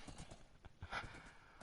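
Horse hooves clip-clop in the Minecraft video game, a quiet, quick series of soft hoof taps in a steady trotting rhythm, heard alone.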